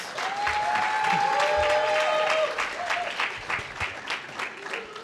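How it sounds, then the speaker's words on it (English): Audience applause at the opening plenary of an HBCU making and innovation showcase, a large crowd clapping continuously, with a brief tonal whistle or feedback-like sweep early on and the clapping thinning out toward the end. "Can we give another round of applause?"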